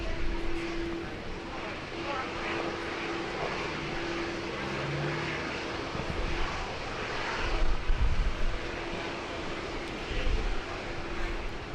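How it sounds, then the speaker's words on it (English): An Air Niugini Boeing 767 jet takes off from Brisbane Airport, a broad steady engine roar heard from a distance. The roar swells and rumbles as the jet climbs away, with light background noise and no talk. "Air Niugini 767. Our next international departure."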